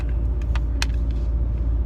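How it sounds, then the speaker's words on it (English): A diesel semi truck engine idles with a steady low rumble close by, joined by a few brief higher clicks and knocks over the continuous drone. "We got the truck running now."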